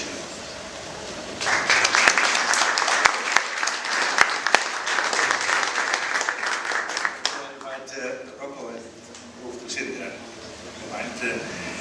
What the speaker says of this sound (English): Ladies and gentlemen, give the people a warm applause as they come up for a panel discussion.